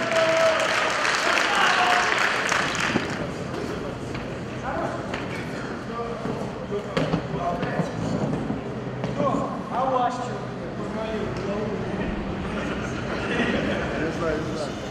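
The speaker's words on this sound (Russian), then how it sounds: "Ваши аплодисменты Владимиру Теренкову и Илье Никольскому." Applause from an audience at a boxing fight, loud at first and then thinning into scattered claps, with someone speaking over an arena announcement system for much of it.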